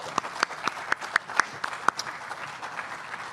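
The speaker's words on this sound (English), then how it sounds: "he deserves our thanks, and really a round of applause for Paul and everything he has done." An audience at the Electron-Ion Collider project launch event gives a round of light, scattered applause: a few distinct claps close together, thinning out after about two seconds.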